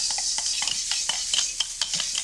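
Onions tossed and stir-fried in a wok over high heat with ginger and garlic, a steady loud sizzle broken by repeated scraping, clattering tosses about every quarter second, with no voices.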